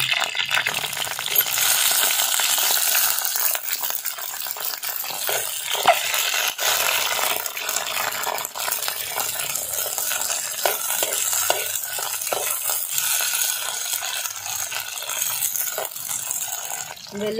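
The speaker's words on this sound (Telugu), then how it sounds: "నూనె వేడెక్కిన తర్వాత పచ్చిమిర్చి వేసుకోవాలి" Green chilies fry in hot oil for a village-style tomato roti pachadi, giving a loud, steady hiss and crackle with occasional light stirring taps, close and without voices.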